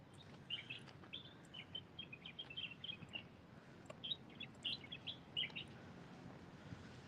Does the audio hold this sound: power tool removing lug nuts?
no